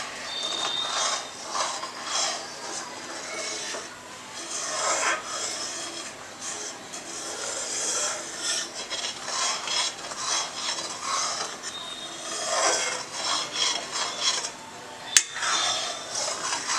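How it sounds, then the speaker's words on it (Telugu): A spoon stirs milk with sugar in a pan for shahi tukda, making a steady scraping and rubbing against the metal in repeated strokes that continue at moderate loudness. "ఇలా పాలని ఊక కలుపుకుంటూ ఉండాలి"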